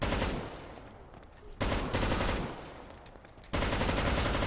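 Bursts of rapid gunfire from customizable ArcCW weapons in Garry's Mod, two long dense volleys with short pauses between, loud and close.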